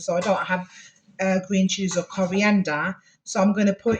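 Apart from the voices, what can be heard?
No everyday noise stands out behind the speech.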